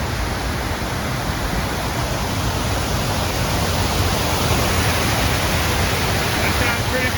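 A waterfall in downtown San Antonio gives off a steady, dense broadband rush of falling water. The roar holds even and fairly loud for the whole stretch, with no clear voices over it.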